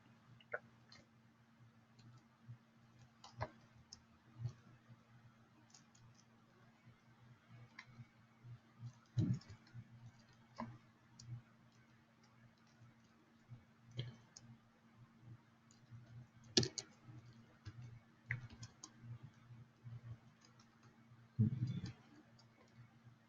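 Light clicks of fingers typing on a computer keyboard set to the Dvorak layout, faint and close, coming in uneven bursts with a few sharper taps over a low steady hum.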